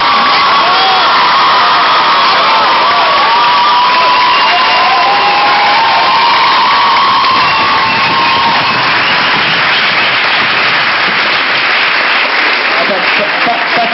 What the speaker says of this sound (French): Pas tant d'applaudissements pour Pauline et moi